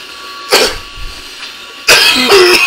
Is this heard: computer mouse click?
no